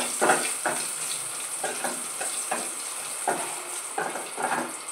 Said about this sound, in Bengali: শুকনো লঙ্কা ভাজা হবে